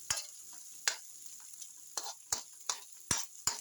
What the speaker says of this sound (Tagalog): Pag ginigisa ang luya. Bawang sibuyas.